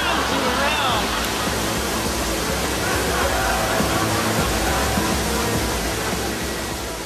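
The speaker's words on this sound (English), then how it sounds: "A running battle between rushing water." Giant surf waves make a loud, continuous roar of rushing water that stays steady for several seconds, with faint voices beneath it.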